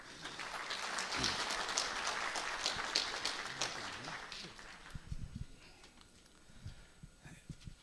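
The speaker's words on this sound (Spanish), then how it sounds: "lo recibimos con un fuerte voto de aplauso" An audience at a conference on Peru's 1993 Constitution applauds to welcome the rector of Universidad Peruana Los Andes. Dense clapping fills the first few seconds, then fades away, leaving a few stray claps and a voice speaking.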